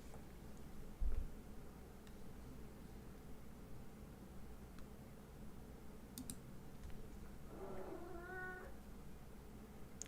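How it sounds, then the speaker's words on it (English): A house cat meows once, a short, faint, rising call near the end, over quiet background noise with a few scattered clicks. "That's my cat saying hello."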